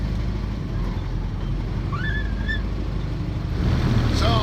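Boat engines on a low river in Cambodia hum steadily and close, a continuous low drone with faint higher chirps and a slight rise in loudness near the end.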